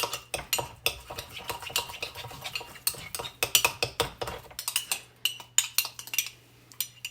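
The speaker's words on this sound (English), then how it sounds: "I should just have to stir this, mix it around, and maybe mash it a little bit with a spoon just to make it a paste" A metal spoon stirs and mashes garlic into a paste in a bowl, giving quick, irregular clinks and scrapes, close and fairly quiet, with no talking.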